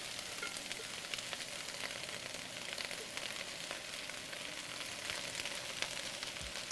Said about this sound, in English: Nice sizzle when we drop it in